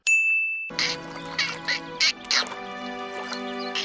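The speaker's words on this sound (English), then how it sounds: "Turtle duck!" A cartoon turtle duck from the Avatar: The Last Airbender animated series gives several short, nasal quacks in quick succession, close and clear over sustained ringing musical tones.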